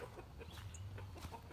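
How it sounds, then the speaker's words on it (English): A rooster gives a quick run of soft, repeated clucks, calling hens to food outdoors; the sound is faint, with no talking. "starts calling his hens with that cluck cluck cluck, which is rooster speak for hey girls, here's food"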